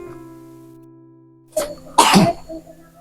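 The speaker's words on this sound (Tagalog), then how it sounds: "grabe ang ubo" A child coughs in two harsh bursts, the second louder and longer, over a steady low hum, with a faint voice afterward.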